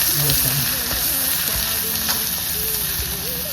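Sliced ginger and garlic sizzle in sesame oil for a prawn pickle, giving a close, steady frying hiss with light stirring and faint tonal squeaks.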